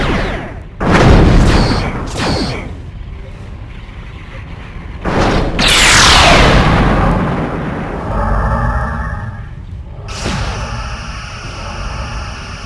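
Torpedoes firing from the rear tubes of a starship in the Star Trek Bridge Commander video game, a series of loud booming launches with a rushing sweep mid-clip, layered over game effects and a low engine hum.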